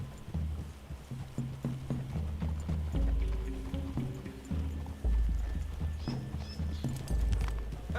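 Horses trotting in the Red Dead Redemption 2 video game, with steady rhythmic clip-clop hoofbeats from several animals close by, joined by low rumbling thumps and a soft game soundtrack underneath.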